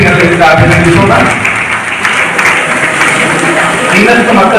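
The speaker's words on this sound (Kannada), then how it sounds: "ಚಪ್ಪಾಳೆ ಮೂಲಕ ನಾವು ಕಲ್ಪಿಸಿದ ಅಭಿನಂದಿಸೋಣ" An audience at a district Sharana literature and cultural conference in Kalaburagi breaks into sustained applause, loud and continuous, a thick wash of clapping filling the hall with some voices beneath.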